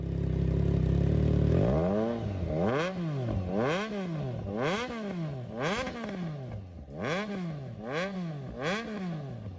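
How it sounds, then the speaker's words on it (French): A three-cylinder sport motorcycle engine revs repeatedly, rising and falling in steady swells with a raspy, mechanical growl, loud and close, after a brief steady idle. "profiter un peu de la sonorité de ce 3 cylindres"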